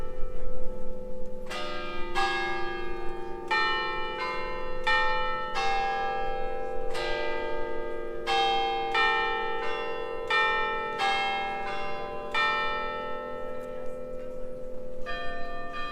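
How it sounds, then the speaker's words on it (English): A church bell chimes in the old town of Cannes, a bright metallic ringing struck again and again in an uneven run of strokes whose tones hang and overlap, clear and moderately near over faint outdoor background. "That was a nice little chime."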